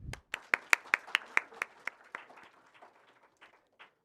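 Applause for the winners at an award and felicitation ceremony, starting as a burst of distinct claps that quickly thin out and fade into scattered, trailing hand claps by the end.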